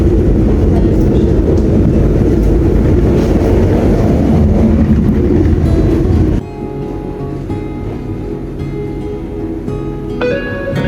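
A train travelling between Maribor and Dubova rumbles loudly along the rails for several seconds, then the roar drops to a quieter steady hum with faint tonal whines.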